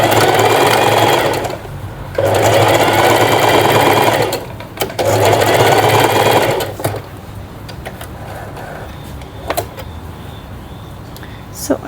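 A sewing machine stitching a tie-front top runs in three long, steady bursts of motor whir and needle chatter, then falls quiet apart from small clicks and handling noise.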